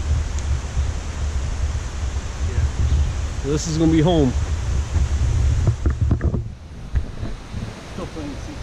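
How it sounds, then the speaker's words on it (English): Big Creek flowing beside a campsite in the Great Smoky Mountains, a steady rushing wash of water mixed with some wind buffeting, with someone speaking briefly over it. "It's always nice to go to sleep listening to the creek."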